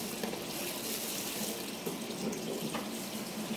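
Tap water runs steadily from a faucet into a sink while sago pearls are washed, a continuous close splashing stream with no talk, in a home kitchen preparing Cebuano binignit.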